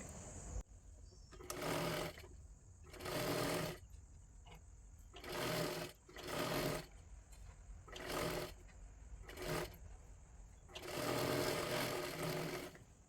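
Sewing machine stitching a double seam on a katori blouse, running in short bursts of rapid whirring separated by pauses, with a faint steady whine underneath.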